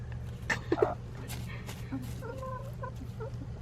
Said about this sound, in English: you're teasing the chickens